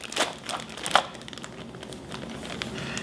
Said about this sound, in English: we're going to take the DCS930L and stick it into a waterproof plastic bag